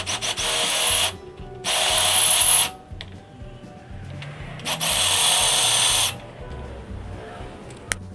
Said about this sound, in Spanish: un fresado o un alesado con una mecha más grande del diámetro de la arandela